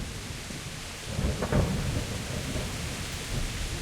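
Thunderstorm in the video game Kingdom Come: Deliverance: steady rain hiss with a loud, close crack of thunder that swells into a rolling rumble and slowly fades back into the downpour.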